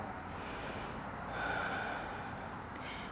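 A long exhale during a flowing vinyasa yoga practice: a soft, breathy rush that swells in the middle and then fades over a steady background hiss.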